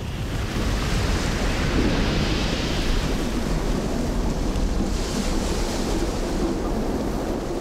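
Ocean waves of a ten-metre tsunami crash onto an inhabited Sicilian coast, a loud, continuous broadband roar of surf mixed with wind noise, with no voices.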